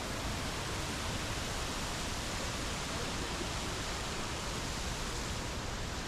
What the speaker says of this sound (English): that waterfall.